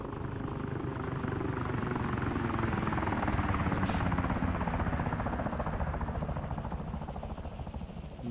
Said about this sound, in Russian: самолет летит.